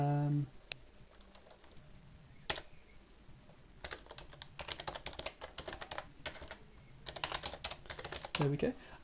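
Keys clatter on a computer keyboard as client details are typed into a DataFlex web application, in quick bursts of clicks between pauses. A short voice-like sound appears near the end.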